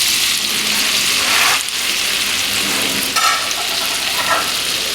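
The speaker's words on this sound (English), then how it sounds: "I like to saute." Floured pork tenderloin sautés in a pan with ginger, giving a steady, close sizzle and frying crackle that runs unbroken for the whole stretch. A brief stir-like scrape sounds at about a second and a half and again near three seconds.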